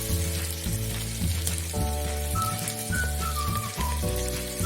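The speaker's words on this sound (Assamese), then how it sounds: "সেই পিঁয়াজ দুটা দি পেলাই আমি লৰাই ল'ম। আৰু লগতে দুটা শুকান জলকীয়া ইয়াত দি দিম।" Onions and dried red chillies fry in hot oil for an Assamese mutton curry with banana stem, a steady close sizzle running throughout with occasional stirring. Background music with sustained tones plays over it.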